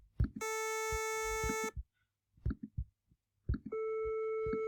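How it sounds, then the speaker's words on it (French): Steady synthetic tones at one pitch, each with a different buzzy or hollow character, sounding in separate bursts with short pauses and soft knocks between. "On a 4 sons de même fréquence, donc de même hauteur, mais des timbres différents."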